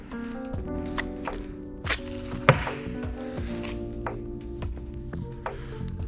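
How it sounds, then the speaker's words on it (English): Bricks are tapped down into mortar beds on a bricklaying job, giving a few dull, close thunks and light taps over a steady background. "compressing the mortar"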